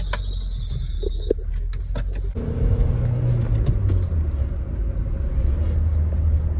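A manual stick-shift car is driven on the way to a frozen waterfall, with a low engine rumble and road noise inside the cabin that rise and hold steady after a few clicks and a brief squeal, no talking.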